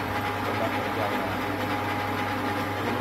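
A lathe runs steadily with a continuous low motor hum and a spinning drone, no pauses, fairly loud and close throughout.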